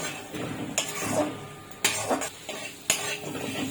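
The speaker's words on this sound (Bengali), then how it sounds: "মশলা দিয়ে ভালো করে কষিয়ে নেব।" Ground spice paste and potatoes being sautéed in a pan, a spoon scraping and stirring with sharp metallic knocks against the pan at irregular intervals over a low sizzle, close and fairly loud.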